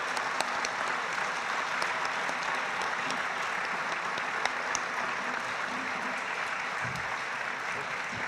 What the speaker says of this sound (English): A round of applause for all the candidates.